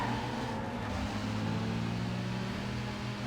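Steady engine drone from a BMW M3 GTR in Need for Speed Most Wanted, a constant even hum held at low level throughout with no variation or voices.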